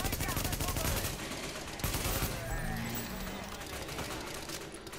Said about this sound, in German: Granaten und Schüsse und.